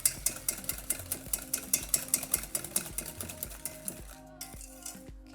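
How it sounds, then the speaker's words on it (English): Eggs and sugar whisked in a bowl with rapid, regular metallic clinks of the whisk against the bowl, close and steady, slowing near the end, with no talking. "So now we're going to mix it up, the eggs and the sugar."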